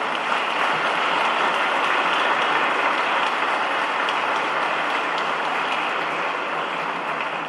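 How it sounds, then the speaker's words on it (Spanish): Continuous, dense applause from an audience at a book presentation honouring a football figure, a broad steady wash of clapping with no pauses or voices. "Un fuerte aplauso para Benjamín."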